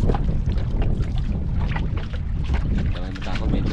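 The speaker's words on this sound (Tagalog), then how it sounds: "Hangin na naman yan." Strong wind roars steadily at sea around a small boat, loud and close with buffeting on the microphone, and water and hull noise mixed in throughout.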